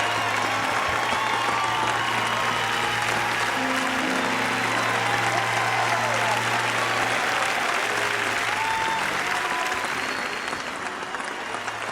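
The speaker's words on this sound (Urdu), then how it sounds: "کیا آپ تالیاں بجا کر میری حوصلہ افزائی اور خدا کا شکر ادا کریں گے؟" A church congregation at a T. D. Jakes sermon applauds in a dense, steady wash of clapping that holds loud and even throughout, tapering slightly near the end, with no talk over it.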